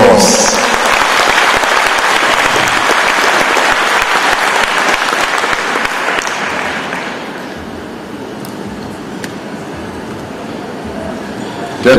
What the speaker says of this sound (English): I'm going to ask everyone to give you a rousing round of applause.